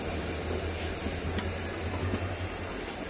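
A train pulls into a station at night with its headlight on, giving a steady, loud engine rumble and hum that holds throughout with a faint high whine, and no voices over it.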